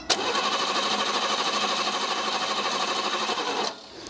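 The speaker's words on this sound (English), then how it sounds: "I think I'm just going to keep cranking because I know the fuel pump's good." A barn-find BMW engine cranking on the starter without catching after sitting for months, a steady loud whirring churn for nearly four seconds that then cuts off.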